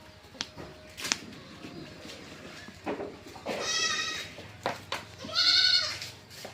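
Goats on a goat farm in Assam bleat in a few loud, drawn-out calls close by, between quieter shuffling and scattered farmyard noises.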